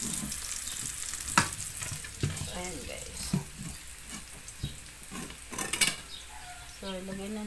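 Minced garlic and shallots fry in a pan with a steady oily sizzle, punctuated by clinks and scrapes of a utensil against the cookware, with no talking over it.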